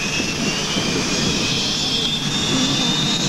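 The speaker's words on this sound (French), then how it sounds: "Il faut beaucoup de gaz pour faire rebouger l'avion." A Beechcraft Bonanza light airplane stuck on the ground, engine held at high throttle to move it, a steady loud droning roar at an air show in 1988.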